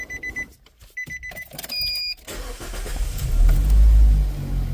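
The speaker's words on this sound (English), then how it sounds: "So let me go and start the vehicle back up again" A 2009 Nissan Tiida with a rough idle from a cylinder misfire cranks and starts after a few warning chimes, then settles into a low, close engine idle.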